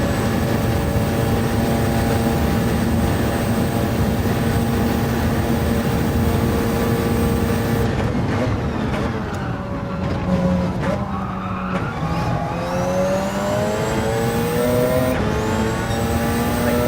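A racing car's engine in a video game, a sustained high-pitched revving howl that runs steadily, then drops and climbs through several gear shifts with tire squeal, loud and close.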